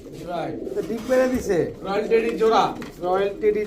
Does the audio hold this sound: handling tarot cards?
no